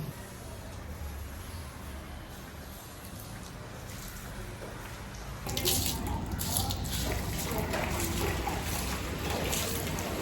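Running water splashing steadily, washing a window, growing louder and more spattering halfway through.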